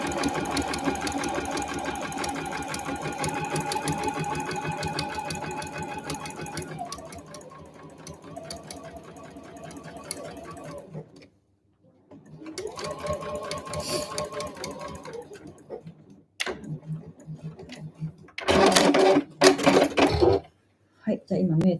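Sewing machine backstitching the tab of a handmade eco bag, a steady rapid needle clatter in several short bursts with pauses between, fairly close and moderately quiet, with speech in places.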